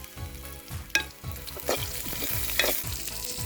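Slit green chillies fry in hot oil with onions, a soft steady sizzle broken by a few sharp crackles and spatters as they are stirred, close and alone with no talking.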